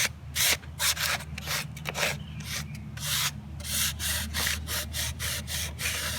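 Finer-grit sandpaper rubs back and forth across a small wooden shelf in quick, close, rhythmic scratchy strokes, each pass a bright rasping burst, with no talking.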